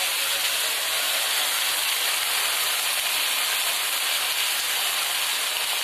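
Spice paste of ginger, cumin, chilli, garlic and onion sizzling with fried potatoes in a hot pan, a steady loud hiss throughout with no break.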